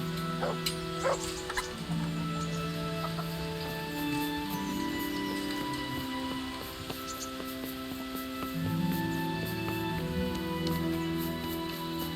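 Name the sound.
dog barking in video game Kingdom Come Deliverance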